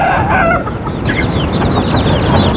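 Chickens clucking steadily and close by, with a dense, continuous run of calls and no talk over them.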